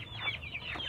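Three- to four-month-old Bangkok, Kampung, KUB and Joper chickens cluck close by in a quick series of short, bright calls over a low background hum.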